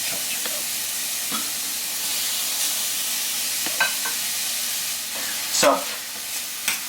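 Minced pork and chopped mushrooms fry in a pan for a Vietnamese crepe omelette, giving a steady broad sizzle with occasional stirring clatters and scrapes, and a voice briefly speaks.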